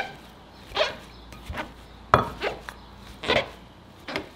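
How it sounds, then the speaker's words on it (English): Flower petals ripped up by hand for homemade perfume, several short separate tearing snaps spread unevenly across a quiet, close-up setting. "we're gonna rip up our petals to kind of activate all of that fragrance"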